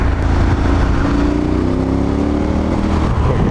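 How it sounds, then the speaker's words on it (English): A KTM 1290 Super Adventure S motorcycle's big engine pulls hard under acceleration, a loud, steady, gritty drone with rising pitch and constant roar throughout. "There's so much grunt in this bike, I love it so much."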